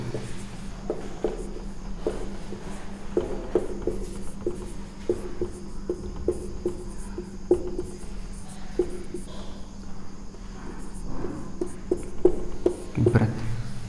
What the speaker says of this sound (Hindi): तो लिखिए, लिखते हैं।